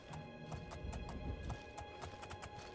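A horse carries its rider at a steady gait in the video game The Elder Scrolls IV: Oblivion, its hooves clip-clopping in a quick, even rhythm over soft game ambience.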